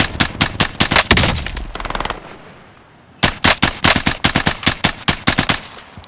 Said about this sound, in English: Just practicing my tap firing